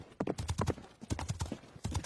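Horse hooves clip-clop in a quick, steady rhythm on a joy ride alongside a carabao, close and clear, with brief laughter-free gaps and no speech over the hoofbeats.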